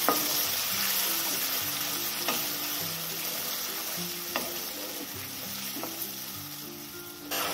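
A blended spice paste with ginger sizzles steadily in hot oil for a Bengali katla fish curry, while a spoon scrapes through it in repeated, irregular strokes; close and continuous, with no voices.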